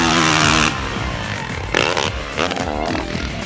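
A 2014 Yamaha YZ450F motocross bike engine revs hard in loud, rising bursts, with short pauses between each blast of the throttle.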